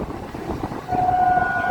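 A local train on the reopened Amghata–Krishnanagar line rumbles along loudly nearby, then its horn sounds a sustained tone over the running noise for the second half.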